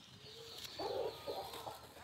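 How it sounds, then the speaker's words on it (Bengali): An old-breed Lahori pigeon gives a short, soft cooing call, close by and faint against a quiet background. "উস্তাদের অনেক পছন্দের একটা কবুতর এবং অনেক পুরনো জাতের লাহোরি কবুতর"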